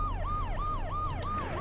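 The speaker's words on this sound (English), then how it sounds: "The noise the ambulance makes will cover the sound of the glass breaking." An ambulance siren in the video game Dead Synchronicity, a loud, close wailing tone sweeping up and down in a fast, regular repeating cycle over a low engine drone.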